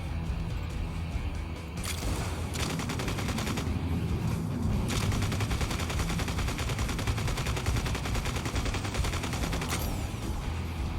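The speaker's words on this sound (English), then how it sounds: "Stop shooting at me when I'm trying to shoot you." Sustained gunfire in a shooting video game, dense rapid bursts and volleys running almost continuously at steady loudness, with no talk.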